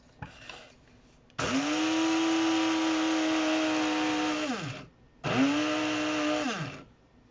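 An electric grinder whirs loudly as it grinds a dry ingredient for homemade natural soap, running in two bursts, a long steady one and a shorter one, each spinning down at the end, with no talk over it.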